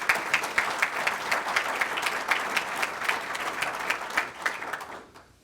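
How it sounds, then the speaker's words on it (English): A crowd at a public policy speaker series applauds in a steady, fairly loud round of clapping that holds evenly and then fades out quickly at the end. "So let's give them a round of applause."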